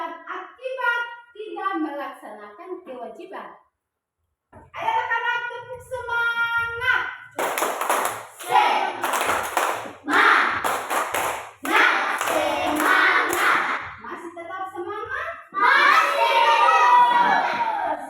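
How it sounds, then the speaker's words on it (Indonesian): Schoolchildren in a classroom doing a rhythmic spirit clap, chanting in unison between bursts of sharp, patterned claps, with a teacher's voice leading at the start. "Ayo anak-anak, tepuk semangat."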